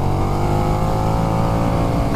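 A KTM 1290 Super Duke R motorcycle from 2020 accelerating hard while overtaking on the road, its engine loud, close and steady with a dense droning roar.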